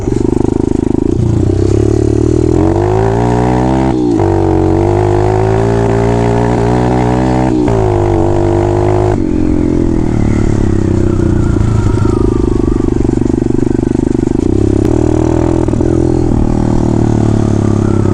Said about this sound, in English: Go over to the field and play with some wheelies. Little sprint across the dirt.